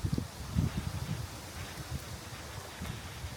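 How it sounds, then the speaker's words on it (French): Wind rising as a storm darkens the sky over the Monegros desert in Spain, a gusty rush and buffeting across the microphone, strongest early and then settling into a steady, rough roar with no voices. "il y a le vent qui s'est levé"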